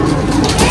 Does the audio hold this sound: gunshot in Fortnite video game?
no